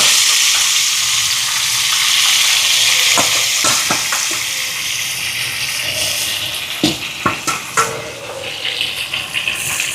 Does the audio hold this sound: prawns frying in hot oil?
yes